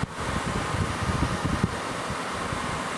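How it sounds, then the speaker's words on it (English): A repaired portable air conditioner runs steadily, giving off a constant close-up whoosh of fan air with a low rumbling texture and no rattles or talking. "Works good, no noises. Putting out good cold air."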